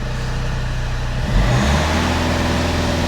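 A Vauxhall Insignia engine, being checked for loss of power, idles then revs up to around 2,500 rpm, a steady close engine drone that rises and holds with no talk over it.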